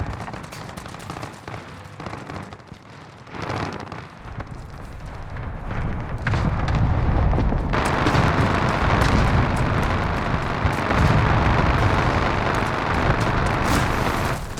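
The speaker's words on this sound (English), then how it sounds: "Allied cluster strike arriving." Cluster strike in Call of Duty Warzone on the Caldera map, a run of heavy explosions and crackling blasts that start sparse and build into a dense, loud, continuous barrage lasting several seconds, with no voices.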